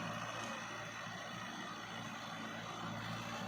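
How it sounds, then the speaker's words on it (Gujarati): Steady loud whirring drone of a Mitsubishi 4x4 tractor with a blower attached behind, spraying in a pomegranate orchard, a continuous engine hum with broad airy hiss and no breaks. "ટ્રેક્ટરની પાછળ બ્લોઅર જોડેલું છે. 4x4 મિત્સુબિશીનું ટ્રેક્ટર છે"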